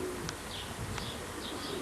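Racing pigeons coo softly at the loft, a few faint murmuring calls set against a quiet hiss of background noise.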